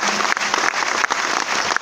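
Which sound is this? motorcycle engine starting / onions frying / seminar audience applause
seminar audience applause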